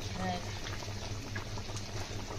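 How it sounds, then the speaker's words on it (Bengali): About 5 kg of mangoes boil steadily in a pot for chutney, a low continuous bubbling simmer. "এই পাশে আম সিদ্ধ করা হচ্ছে চাটনি করার জন্য।"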